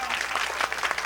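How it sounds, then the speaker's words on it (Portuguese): Brief burst of audience applause at a 1993 São Pedro festa junina talent show, a dense crowd clapping close by with scattered louder claps throughout. "Parabéns, uma salva de palmas para Negão."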